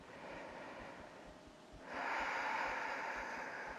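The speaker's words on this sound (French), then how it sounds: "Commencez par respirer par le nez." A single long breath drawn in through the nose during a yoga session, soft and close, swelling louder midway and continuing steadily without speech.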